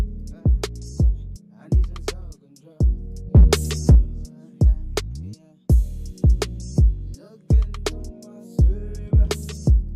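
A voice sings short repeated notes drenched in a thick chorus effect, phrases pulsing in a steady rhythm with brief gaps between them.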